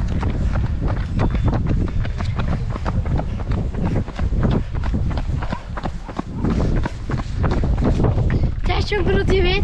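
Footsteps of people running outdoors on an endurance run into a headwind. A steady, rhythmic patter of close footfalls is mixed with heavy wind buffeting the microphone, and a voice is briefly heard near the end.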